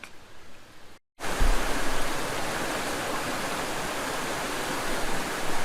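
A river in full spring runoff rushes loudly and steadily, a broad, constant roar of fast water close by, coming in after a brief quieter stretch and a moment of silence.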